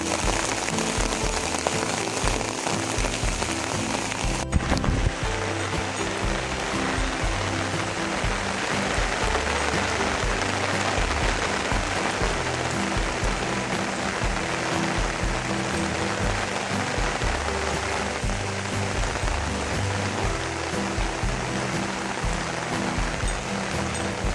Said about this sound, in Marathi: पाऊस बघा किती वाढलाय आता